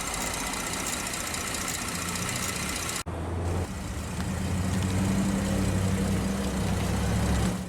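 A 2010 Buick LaCrosse CXS with its 3.6-liter dual overhead cam 24-valve naturally aspirated V6 idling, a steady low engine hum with a brief dropout and shift in tone partway through, continuing evenly to the end.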